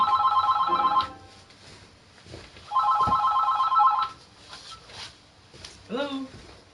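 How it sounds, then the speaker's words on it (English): A telephone rings in two long trilling bursts, loud and close, separated by a pause, with a brief rustle and faint voice afterward. "I got a phone ringing"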